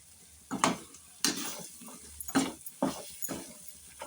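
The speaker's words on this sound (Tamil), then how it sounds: "நல்லா கிண்டிடுங்க." Vathal kuzhambu being stirred in a pan with separately fried vathal added, several distinct scraping and clattering strokes of a spoon against the pan over a soft bubbling background, close by.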